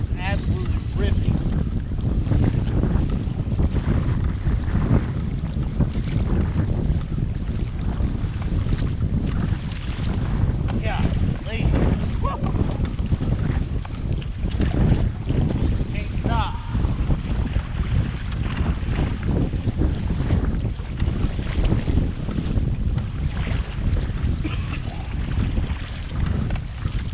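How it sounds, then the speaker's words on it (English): Strong wind roars steadily over open water during kayak bass fishing practice, a continuous loud rush with heavy microphone buffeting and splashing of waves around the boat. "the wind is absolutely ripping."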